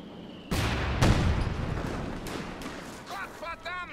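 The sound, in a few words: artillery fire in a strategy video game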